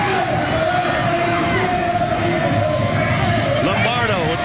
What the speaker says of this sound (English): With the crowd kind of yelling her name now.